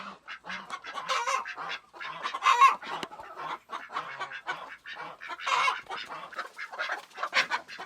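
Hens in a coop with nesting boxes squawk and cluck in a loud, agitated flurry of overlapping close calls, continuing without pause throughout.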